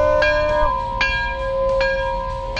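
A bell at a car dealership rings four times at an even pace, each strike bright and resonant, its tone lingering between hits.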